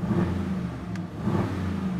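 A 2021 Aston Martin DBX with its V8 engine holds a steady, fairly loud mid-pitched rumble throughout, heard close and alone with no talk over it.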